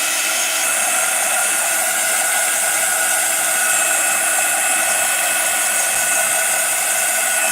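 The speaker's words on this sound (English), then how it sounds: "Again, heat tool if you've got earphones in." A craft heat tool blasts hot air over acrylic paint on mixed media pumpkins, giving a loud, steady, close whooshing hiss that runs unbroken from start to finish.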